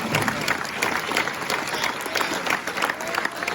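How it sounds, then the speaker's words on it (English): Steady applause from a banquet audience at a school reunion, dense clapping filling the room at a constant level with no voices over it. "I think we need a round of applause for Mr. Trap, right?"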